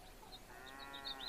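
Goat bleating in the FarmVille 2 farming game, a short faint cartoonish bleat alone in quiet.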